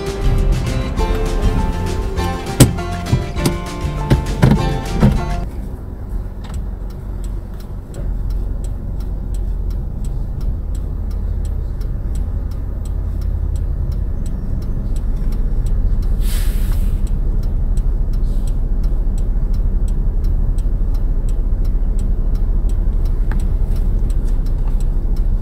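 A car pulls away at the start of a road driving test, its engine giving a low, steady hum that builds slightly and continues after a few brief clicks and knocks at the beginning.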